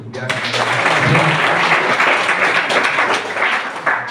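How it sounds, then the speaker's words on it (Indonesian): Audience applause at an anniversary celebration held in a hall, a dense steady clapping wash that fills the whole stretch, loud and close, with speech blended in over it. "Tepuk tangan dulu."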